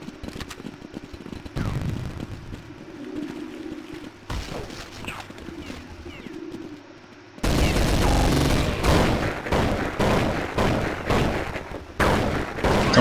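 Counter-Strike 1.6 gunfire, played in a web browser, crackles in rapid bursts, quieter at first and then loud and dense, with repeated shots and booms in quick succession.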